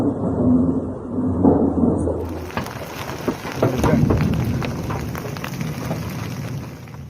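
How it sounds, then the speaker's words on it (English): A hailstorm with heavy rain and thunder in the Yanbu region of Saudi Arabia: a dense, steady roar of rain with low rumbles and scattered sharp impacts, loud and continuous throughout. "a hailstorm that also brought heavy rain and thunderstorms"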